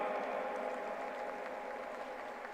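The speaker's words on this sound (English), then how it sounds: "A big round of applause to Vedangi for Executive President's Medal." A large convocation audience at a university ceremony in Pune applauds a medal recipient with a dense, continuous wash of clapping that stays steady and fairly distant throughout, with no individual claps standing out.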